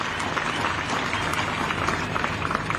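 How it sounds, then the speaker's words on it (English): Applause for investors at a mine groundbreaking ceremony, led by the president of Zambia. A large outdoor crowd keeps up steady, dense clapping for the whole stretch. "May we clap for the investors that have had to travel from a long distance to be here."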